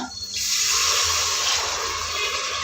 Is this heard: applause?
no